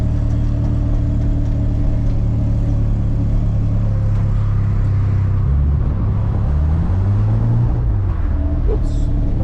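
A 1979 Mazda RX-7 drives around a yard, its engine a loud steady low rumble that dips and swells briefly near the end, close and continuous throughout.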